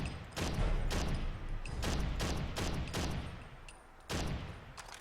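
An unsuppressed SCAR rifle fired in Fallout 4, a rapid string of loud, booming shots with heavy low rumble, bunched in quick volleys and followed by a final burst after a short pause.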